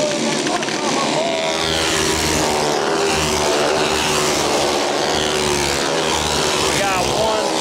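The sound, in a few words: flathead limited modified race car engine on kart track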